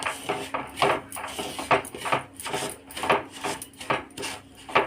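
Semolina (rava) roasting in a pan while a spoon scrapes and stirs it in steady, rhythmic dry rasping strokes, close and fairly loud with no talk.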